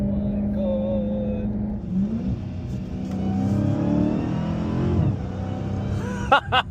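A bone-stock factory car engine revs steadily at mid pitch, rising and swelling through the middle and easing off near the end, heard from inside the car at close range, with brief sharp sounds just before it finishes.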